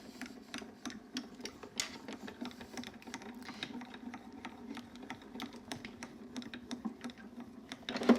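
An embossing folder sandwiched with a card is cranked through an embossing machine, giving a faint, steady stream of small rapid clicks and ticks throughout.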